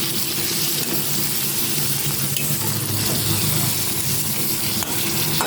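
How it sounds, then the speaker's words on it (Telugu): Brinjal pieces fry in a pan with a steady, dense sizzle that stays close and even throughout, no voices over it. "వంకాయ ముక్కలు బాగా వేయించుకోవాలండి"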